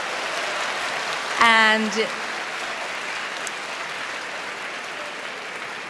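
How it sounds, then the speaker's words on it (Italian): Audience applause during the voting at the 1990 Eurovision Song Contest in Zagreb, a dense steady rain-like wash of clapping throughout, with a brief voice speaking over it. "we have to wait for the applause to stop."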